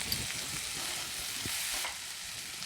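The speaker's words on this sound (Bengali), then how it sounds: "পেঁয়াজটা হালকা লাল হয়ে গেছে, এখন এর মধ্যে আমি ক্যাপসিকাম কুচি দিয়ে দিচ্ছি" Chopped onion and capsicum fry in a pan with a steady high hiss and crackle, broken by a few soft stirring scrapes, close and moderately loud with no talking.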